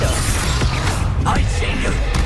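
A Confringo fire spell bursting on impact in Hogwarts Legacy during combat, a dense crackling blast with scattered sharp cracks and mechanical clatter over constant battle noise.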